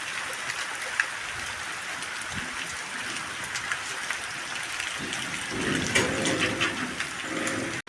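Heavy rain pouring down in Punjab, a dense wash of drops with splashing that grows heavier toward the end, no talking.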